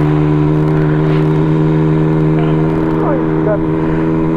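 A motorcycle engine runs steadily while warming up, loud and close, with a constant droning hum and no big revs. Voices chatter faintly in the background.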